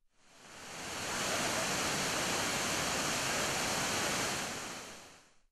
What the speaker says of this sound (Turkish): Şelale çok güzel.